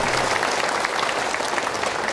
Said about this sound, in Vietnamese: Chúng ta dành cho bạn một tràng pháo tay